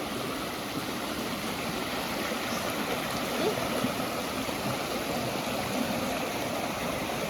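Water flows steadily in a stream, a constant broadband rushing and burbling at moderate distance, with no other sounds standing out.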